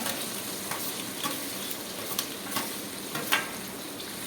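Chopped tomatoes frying with turmeric and salt in a pan on a low gas flame give a soft, steady sizzle with scattered small pops and crackles, heard alone without talk.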